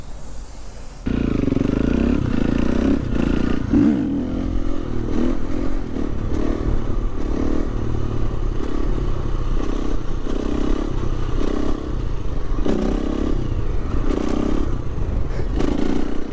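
KTM 350 EXC-F supermoto motorcycle ridden hard, a loud, continuous engine roar with rhythmic surges as the throttle and clutch are worked, with clatter and wind, close up and without talking.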